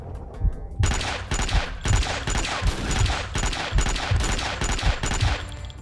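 Repeated bursts of rapid gunfire in the Max Payne video game, loud and close, firing in steady volleys of roughly one per second.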